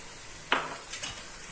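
Mashed potato being stirred with spices in a pan while making an aloo sandwich filling: a sharp scrape of a spoon against the pan, then a few softer clinks and rustles, close and quiet with no talking.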